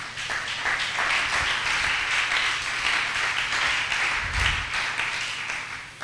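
A church congregation applauds during a service, a dense and steady round of clapping from many hands that carries evenly through the whole stretch at a fairly loud, close level.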